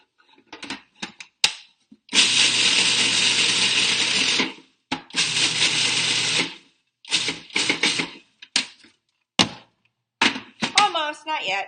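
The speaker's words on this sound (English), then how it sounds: "I can pulse them a few times and then voila, instant oats." A food processor pulses rolled oats into instant oats, with two long whirring bursts of a couple of seconds each, separated and followed by shorter quick pulses, loud and close, and a voice speaks briefly at the end.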